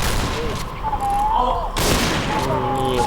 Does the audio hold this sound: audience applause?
no